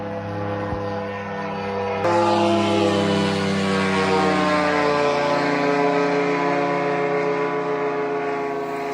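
A Russian attack drone flies low overhead in the Leningrad region, a loud, steady droning engine tone with strong harmonics that jumps louder after two seconds and holds through the rest.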